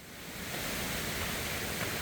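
Water rushes steadily down a mountain valley stream at Munwon Valley on Gwanaksan, a hiking trail with waterfalls, making a dense, even hiss that swells slightly at the start and then holds constant with no voices.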